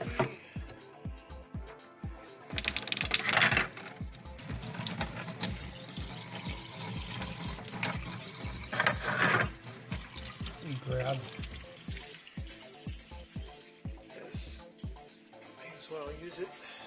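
Water runs and splashes steadily from a tap while retrobrighted plastic parts are rinsed, with surges of heavier flow and rhythmic knocking of the pieces being handled, and a voice speaks intermittently over the running water.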